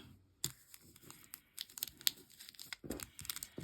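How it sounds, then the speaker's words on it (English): Scissors cut out a piece of fabric on a stitching studio table, with close, scattered snips and crisp crinkling of cloth and paper in irregular bursts. "And then I'll cut it out."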